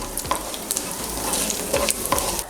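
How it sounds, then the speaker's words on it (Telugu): Mustard and cumin tempering seeds with garlic stir-fried in hot oil for a coconut chutney, giving a steady close sizzle broken by a few scraping stirs of a spoon against the pan, with no talking. "తాలింపు గింజలను కూడా ఒకసారి కలబెట్టుకుందాము."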